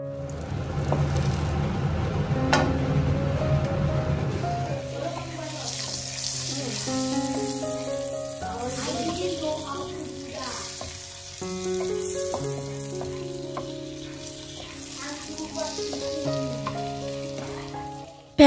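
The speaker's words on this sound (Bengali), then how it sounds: "এইদিকে পেঁয়াজগুলো ভেজে নিচ্ছি, পেঁয়াজগুলো বাস ভাজা হয়েই গেছে" Onions frying in a pan give a constant crackling sizzle throughout, heard alongside tonal background music.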